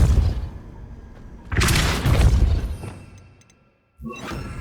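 Magic spells cast in Hogwarts Legacy: bursts of whooshing and crackling impact, a booming blast, then a short quiet gap before another spell erupts.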